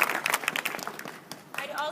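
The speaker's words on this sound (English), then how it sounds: "I'd like you to give them a round of applause." At a bank's grand reopening, an audience gives a short round of applause, a close burst of many clapping hands with individual claps standing out, fading slightly near the end.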